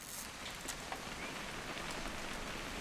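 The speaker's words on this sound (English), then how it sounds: "It's gonna rain the whole weekend," Rain falling in the video game What Remains of Edith Finch, a soft, quiet steady patter of drops on surfaces with a hissing wash, alone without voices.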